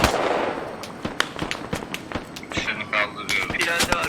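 Gunfire in the military shooter Squad: sharp, irregular cracks and pops scattered across a few seconds, some near and loud, others farther off, with voices talking over them.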